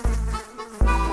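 Mosquitoes buzz in a Telugu children's cartoon, a close, steady insect drone in two bursts, the second starting just under a second after the first.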